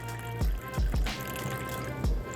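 A cup of water poured into a pot of chili bolognese with stock, giving a short splashing, dripping pour with a few low plops and gurgles, close and moderately loud.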